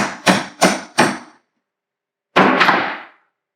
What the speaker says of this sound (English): I might have to actually get a bit of a hammer here just to get a bit more leverage.